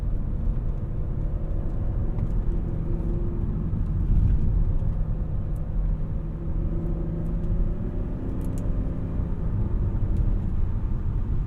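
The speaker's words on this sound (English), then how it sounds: "Adding the gas pedal downhill in this car is pretty fun." A 2003 Audi S8 sedan accelerating downhill, its engine a steady low rumble with road and wind noise that swells slightly midway, continuous throughout with no talking.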